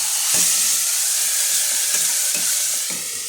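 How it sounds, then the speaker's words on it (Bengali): A paste of garlic, onion, ripe green chili and sour yogurt fries for a rui fish masala, giving a loud, continuous close-up sizzle with a few soft stirring thumps and no voices. "পেস্ট করে রেখেছিলাম রসুন, পেঁয়াজ আর পাকা কাঁচা লঙ্কা আর টক দইটা। এটা আমি কষিয়ে নেব।"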